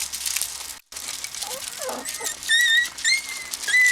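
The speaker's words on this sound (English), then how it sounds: "You hear a little bit of whimpering." Miniature Schnauzer puppies outdoors for the first time give faint, high-pitched whimpers and squeaks, several short cries near the end over rustling and pattering as they move about.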